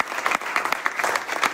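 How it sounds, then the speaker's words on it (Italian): Audience applause at a round-table discussion during a spring school in Gallio, a brief, steady burst of many hands clapping at close range with no pause. "la spalla principale vorrei fare un grande applauso a Beatrice."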